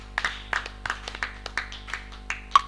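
A church congregation claps in a steady, rhythmic pattern, sharp and fairly close, with no voices over it.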